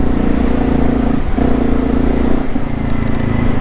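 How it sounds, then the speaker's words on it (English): A semi-automatic motorbike engine idles close by with a steady, low, throbbing hum, moderately loud, with one brief dip in the middle and no voices. "Speaking of the engine, have a listen."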